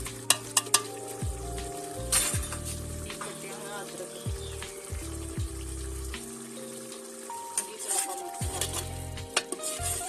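Garlic, green chili and tomato puree fry in a pan for chole, sizzling steadily with stirring thumps and utensil clinks, while a person talks over the cooking.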